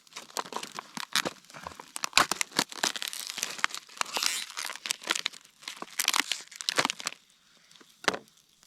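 Plastic packaging of lamb cutlets being torn open at a riverside campsite: close, loud crinkling and ripping in irregular bursts for several seconds, then a last sharp crackle after a short pause.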